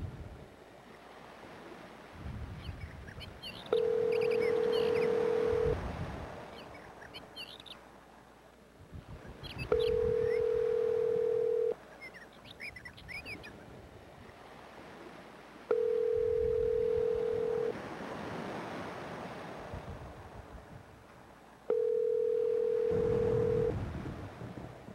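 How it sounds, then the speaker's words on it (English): A telephone line rings while a call is placed: four long, steady electronic tones, each lasting about two seconds and repeating roughly every six seconds, with faint background noise in between. "Let's call Freddie, the producer."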